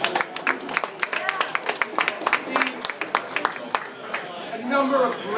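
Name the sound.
applause at campaign speech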